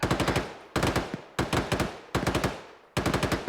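Bursts of rapid gunfire from a fight over a ridge, with five loud clusters of several cracks each that come in quick succession at close range.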